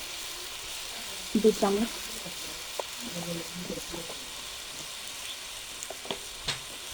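Spice paste of ground ginger, cumin and dried chili powder fries in a pan with a splash of water, giving a quiet, steady sizzle. Someone speaks over it in short phrases, with scattered clinks and scrapes.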